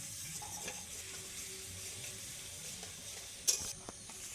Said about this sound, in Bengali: রসুনটাকে হালকা লাল লাল করে ভেজে নেব।